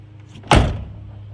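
One firm, close slam as the door of a 1988-1998 Chevy C/K 1500 pickup is shut after a door repair, a single heavy thud that fades quickly with no talking.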